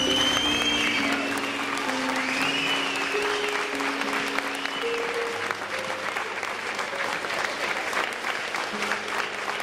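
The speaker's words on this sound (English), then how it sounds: "Let's give Anthony a nice round of applause." Wedding guests applaud the best man's toast at a reception, a steady wash of clapping lasting throughout, with sustained musical tones running underneath.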